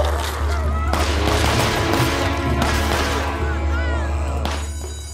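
Rapid gunfire from a SimCity game session, a dense continuous barrage of shots and explosions running loud throughout, with a player's voice talking over it.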